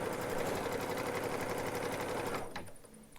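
A Baby Lock embroidery machine stitches an appliqué tack down line, a fast rhythmic mechanical whir close and steady for over two seconds before slowing and stopping.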